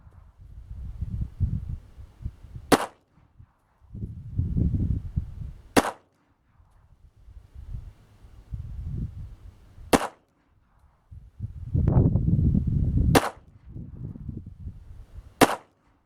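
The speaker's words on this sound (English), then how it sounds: "we fired 48 rounds of the Tula ammo" Pistol firing Tula .45 steel-jacketed ammunition outdoors at about 15 yards: five sharp, loud shots spaced a few seconds apart, with low rumbling handling noise and wind between them.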